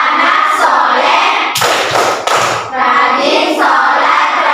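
Children in a fourth-grade Islamic lesson clap along to the 'tepuk anak soleh' chant, with a few sharp, rhythmic bursts of hand claps among chanting voices.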